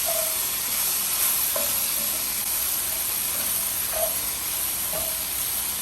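Flour and mushrooms sizzling in oil in a pan for a chicken Riesling pasta, heard as a constant, bright hiss of frying with a few faint stirring taps, steady and close, with no voices.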